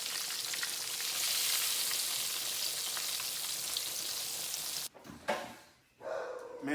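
Breaded mudfish fries in hot grease with a loud, steady crackling sizzle. A few clattering knocks of handling break in near the end.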